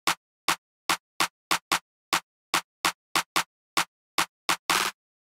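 Dry, sharp electronic claps fall in a syncopated Jersey club rhythmic pattern, ending in a quick rapid-fire roll of claps before stopping.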